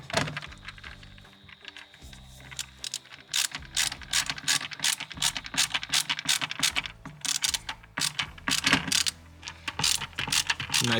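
A ratchet clicks rapidly and repeatedly, tightening a screw inside the interior of a Nissan Skyline R33, with a dense run of close, sharp mechanical ticks that continues throughout.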